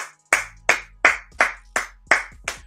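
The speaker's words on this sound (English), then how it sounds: "can we clap it up for Casanova 2-time in the chat" Seven sharp hand claps ring out one after another in a steady, fairly quick rhythm. They are close and loud, each with a short ringing tail, and there is no talking.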